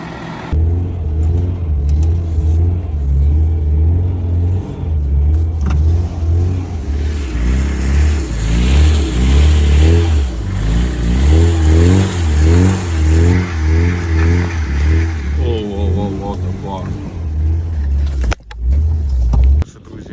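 An MTZ-892 tractor engine heading out to the field, a close, loud diesel rumble that rises and falls as the revs change, running steadily for the whole stretch.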